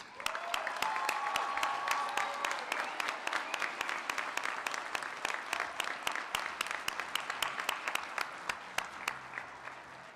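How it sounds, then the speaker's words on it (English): A graduation-ceremony audience applauds legacy students as they leave the stage. The clapping stays steady and quite even for about ten seconds, with sharp claps standing out at a regular beat and a faint tone near the start. "Ladies and gentlemen, one last final round of applause for our first legacy students"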